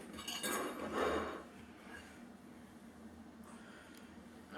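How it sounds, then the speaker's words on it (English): A knife cuts a slice from a freshly finished homemade cake, with soft scraping and light clinks of cutlery and plate up close, busiest in the first second and then quieter. "Now let me go ahead and cut me a little slice."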